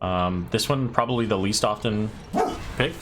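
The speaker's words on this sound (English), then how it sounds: "you guys are gonna have to excuse my dogs." Dogs barking in a room: a few short barks and yips, fairly close, mixed in under steady talking from a man.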